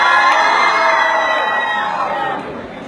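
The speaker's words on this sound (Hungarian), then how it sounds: "nézzük a sikolyt rá!" A crowd of children at a live concert screams and cheers in a loud, sustained wall of high-pitched shrieks and whoops that fades slightly at the end.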